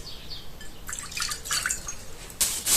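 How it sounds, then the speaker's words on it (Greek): Lukewarm water poured into a clean bowl for sourdough focaccia gives soft, intermittent splashes and trickles close by, building into a brief fuller pour near the end. "Σε ένα καθαρό σκεύος θα βάλουμε 150 γραμμάρια χλιαρό νερό."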